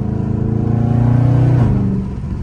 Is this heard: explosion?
no